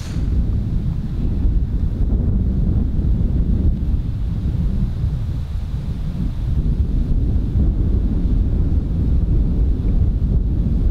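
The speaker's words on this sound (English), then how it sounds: "wind helping off the left" Wind gusts across a golf course, a continuous low rumbling buffet against the microphone that rises and falls slightly, loud and close with nothing else distinct.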